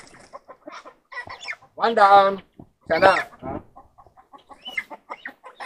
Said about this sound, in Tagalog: Dalawang manok kailangan natin.